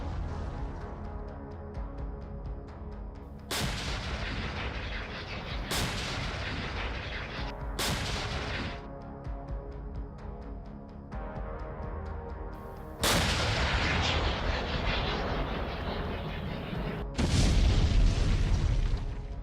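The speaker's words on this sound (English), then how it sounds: "then show the first one being hit by artillery fire, before the second one also suffers a direct hit." Artillery fire striking Russian tanks in close combat in Ukraine, a series of five loud, heavy booms at irregular intervals over a steady rumbling background, with the final impacts the loudest and no speech.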